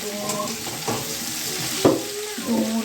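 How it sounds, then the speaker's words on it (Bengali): Potato, jackfruit and plantain pieces fry in oil in a wok, giving a steady sizzle broken by a few stirring scrapes and clinks, close and moderately loud with no talking. "কলা এগুলোকে ভেজে নিচ্ছি এইভাবে আমি সব আমার যে কটা সমস্ত সবজি আমি সেগুলোকে সব ভেজে নেব"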